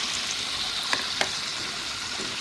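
Carrots and cabbage sizzle in a hot pan as they are stir-fried for a glass noodle dish, a steady close hiss with a couple of faint clicks of stirring.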